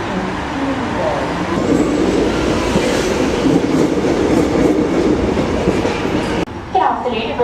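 A Lilydale-line train at Richmond Station, Melbourne, rumbles loudly and steadily along the platform for several seconds, with rail clatter and a noisy station wash, then the sound drops suddenly near the end.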